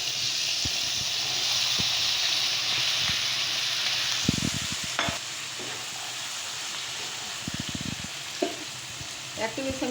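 Chopped carrot, green beans and potato frying in a hot pan with oil, a steady sizzle and hiss throughout, with intermittent clatters and stirring knocks of a utensil against the pan.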